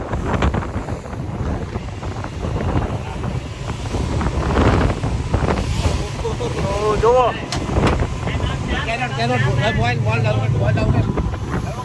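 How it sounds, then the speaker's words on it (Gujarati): A speedboat runs at speed on the sea off Thailand, its engine drone buried under heavy, continuous wind buffeting against the microphone, while people talk over it. "સ્પીડ બોટ ચાલુ થયા પછી કંઈક આવી ફિલિંગ આવી રહી છે અમને"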